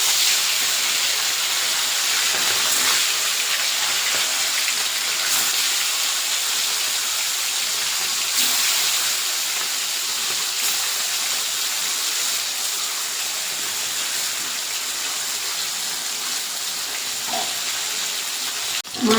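Amudi fish frying in hot oil in a wok, a loud, continuous hiss and sizzle that holds steady throughout with faint crackles and small pops, close and uninterrupted.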